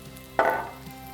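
Prawns seasoned with salt and sesame oil hit a hot frying pan with a sudden loud sizzle partway through, fading into a steady softer fry, with no talking.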